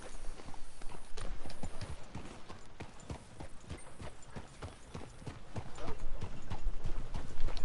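Horse hooves clip-clop at a steady walking rhythm across the ground in Red Dead Redemption 2, the evenly spaced hoof strikes swelling louder toward the end, with voices talking faintly beneath.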